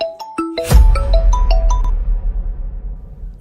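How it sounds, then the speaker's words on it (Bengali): A mobile phone rings for an incoming call: a loud, close melodic ringtone of quick bright tones, followed by a low rumbling background. "তোর বাপের ফোন চলে এসছে"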